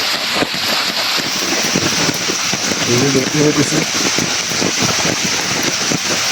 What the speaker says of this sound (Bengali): আর আজকে বৃষ্টি এখনো হইতে আছে